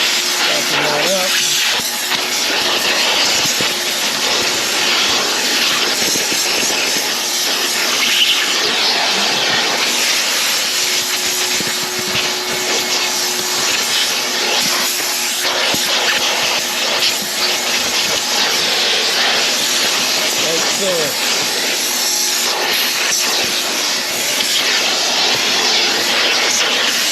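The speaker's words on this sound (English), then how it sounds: "Vacuum that up." A vacuum cleaner roars steadily and loudly inside a car interior for the whole stretch, a broad whooshing drone with no breaks.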